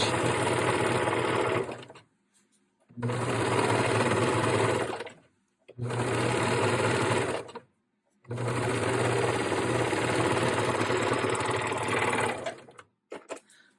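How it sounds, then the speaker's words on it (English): A sewing machine runs a reinforcing stitch on boyshort underwear in four loud, close bursts of steady rapid whirring, separated by short silent pauses, with a few faint clicks at the end. "Now, you don't have to do this reinforcing stitch that I just did"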